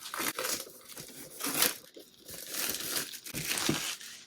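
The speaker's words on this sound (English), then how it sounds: "And I'll just free it from its plastic prison here." Plastic packaging around an INART 1/12 scale Dark Knight Rises Batman figure is torn open up close and quietly. Bursts of tearing and crinkling alternate with brief pauses, and there is no talk.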